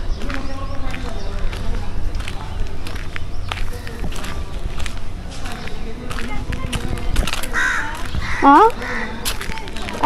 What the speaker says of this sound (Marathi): पक्ष्यांचा पण आवाज येतोय बघा.